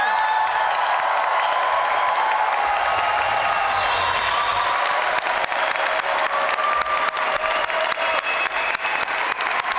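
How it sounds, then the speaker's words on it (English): A large crowd at an Illinois naturalization ceremony applauds new U.S. citizens, with loud, dense, steady clapping that fills the room and keeps going without a break for about ten seconds. "Let's give them a round of applause"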